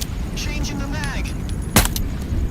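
Rifle magazine swap in the VR shooter Into the Radius 2: a few light metallic clicks and rattles, then a sharp snap as the mag seats, close up over a steady low background.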